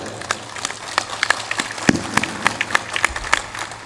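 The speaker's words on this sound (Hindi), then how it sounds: "जोरदार ताली बजाया करो" Audience at a Hindi religious discourse clapping rhythmically, sharp individual claps ringing out in a loose, irregular beat over a low murmur of the hall.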